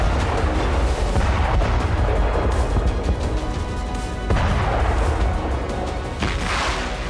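Artillery strikes pound Bakhmut in a dense, continuous barrage of heavy booms and crackling bursts, loud and sustained with a few sharper impacts standing out, no voices.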